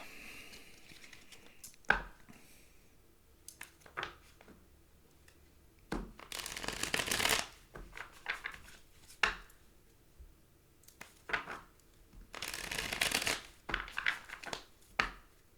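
A deck of tarot cards is shuffled close by and quietly, with two longer riffling bursts among soft taps and card clicks, and no talking.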